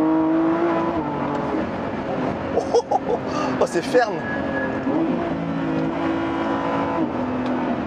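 A Lamborghini Revuelto engine roars and climbs in pitch under full-power acceleration with stability control off, loud and sustained, with a man exclaiming briefly over it.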